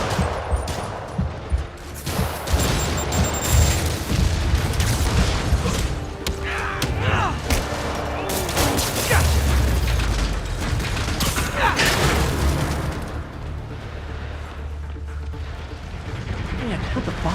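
Rockets and explosions in the Marvel's Spider-Man Remastered video game boom and rattle continuously under dense mechanical clatter, with a voice talking over the loud, layered battle noise.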